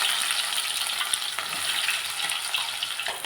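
Chopped onions sizzle and fry steadily in hot sesame oil for a fish curry, a dense continuous crackle heard up close with no talking.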